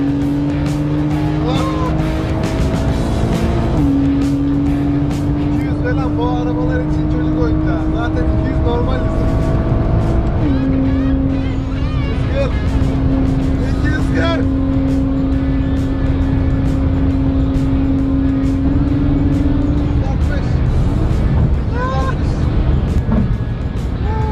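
Supercar in a top-speed run, its engine climbing through the gears with stepped rises in pitch, loud and sustained from inside the car, while people talk over it.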